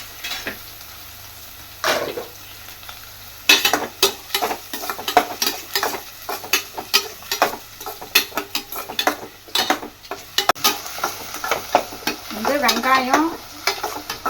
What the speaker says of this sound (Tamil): இப்போ வெங்காயம் போட்டு வதக்கிட வேண்டியது தான்